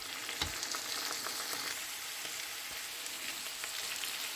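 Steady frying sizzle in a pan, with occasional scraping clicks from stirring, continuous and close.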